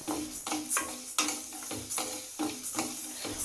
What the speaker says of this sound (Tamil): ஒரு வாணலியில் 1 கப் அளவு கொள்ளு எடுத்துக்கிறேன். அடுப்பை மீடியம் ஃப்ளேமில் வச்சுட்டு லேசாக கொள்ளை வறுத்து விடணும்.